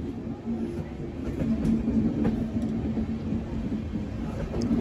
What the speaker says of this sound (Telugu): మనం ప్రయాణిస్తున్న రేక్ ఉంది కదా, ఈ రేకు సదర్న్ రైల్వేస్ కి సంబంధించిన రేక్